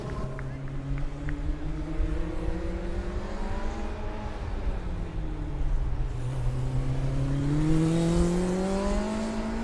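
Sevilla's Formula Student race car, number E51, running on track at an endurance event, its motor pitch rising and falling steadily under continuous commentator talk with a faint crowd behind.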